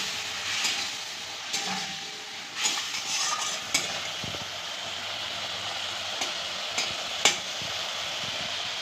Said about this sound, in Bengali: এই যে ঝোলটা ফুটে এসে মাছটা দিয়ে দিচ্ছি।